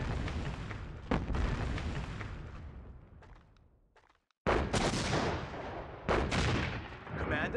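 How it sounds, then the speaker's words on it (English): Artillery firing in the World War II strategy game Sudden Strike 2, with loud booming blasts that die away into a brief near-silence before two more heavy explosions crash in close together. "Artillery ready. fire."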